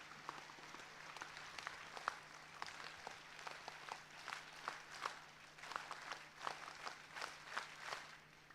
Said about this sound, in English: let's have the NSS clap for our speakers and the panel members on stage